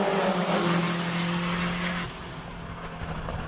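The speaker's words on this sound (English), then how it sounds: "created this once-off unique Rally X all-wheel drive rally" A one-off homemade Rally X all-wheel drive rally car with race suspension drives at a classic car speed event in Cape Town, its engine note steady and loud for two seconds, then dropping to a lower, rougher drone with tire noise.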